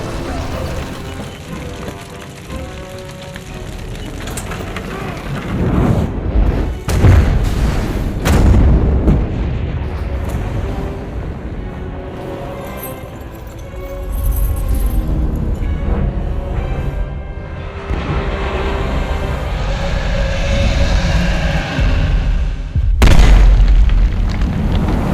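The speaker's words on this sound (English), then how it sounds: "you finish pushing the cart into the monument where it explodes" Video game Shadow of Mordor battle with repeated heavy booming explosions and rumbling blasts, loud and continuous, with a few sharper bursts near the end.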